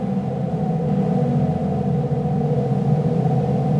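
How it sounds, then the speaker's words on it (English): A sustained low synth drone from a drone generator in an experimental drum synth built in plugdata hums steadily, thick and rumbling with layered tones, unchanging and fairly loud throughout. "a drone generator,"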